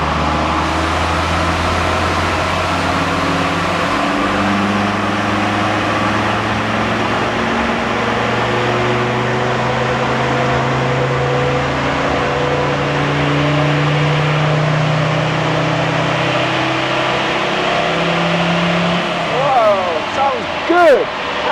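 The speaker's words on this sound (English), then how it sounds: "So full throttle now." A 244hp Td5 diesel engine with a GTB550 turbo run at full throttle on a dyno, a loud sustained rising drone with climbing pitch for about twenty seconds before easing off, with a voice briefly heard near the end.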